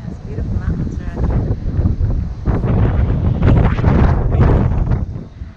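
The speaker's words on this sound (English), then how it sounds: "It's extremely windy" Strong wind buffets the microphone on the Croatian coast in winter, a loud continuous roar with gusts swelling toward the end, and a voice is heard faintly beneath it.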